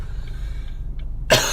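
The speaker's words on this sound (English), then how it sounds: "Clean cough." A single sharp cough bursts out near the end after a quiet stretch of low room hum, close to the microphone in a podcast recording.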